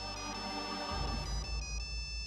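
A mobile phone ringtone plays a repeating electronic melody, continuous and fairly clear, with no voices over it.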